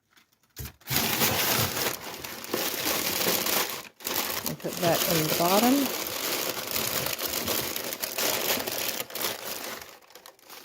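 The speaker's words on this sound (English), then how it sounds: "I'm going to bunch up some paper, packing paper," Packing paper crumpling and crinkling in crisp, uneven bursts, close by, continuing under a person talking.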